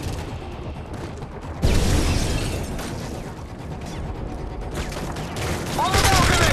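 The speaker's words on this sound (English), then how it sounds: "A grenade!" In Call of Duty: Modern Warfare 3, a loud grenade blast bursts out, followed by rattling automatic gunfire and another sharp explosion late on, while a voice shouts over the fighting.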